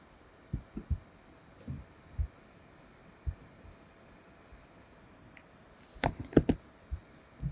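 Keyboard shortcut presses on a computer keyboard: faint, scattered single clicks, then a quick cluster of sharper taps near the end, in an otherwise quiet room.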